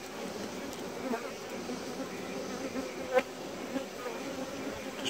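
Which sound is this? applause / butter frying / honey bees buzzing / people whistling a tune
honey bees buzzing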